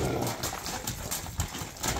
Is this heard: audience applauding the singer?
no